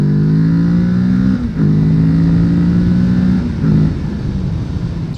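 A 2021 Kawasaki Z650 motorcycle accelerates hard from 0 to 100 km/h, its loud, close engine rising in pitch through each gear with two brief dips at the shifts.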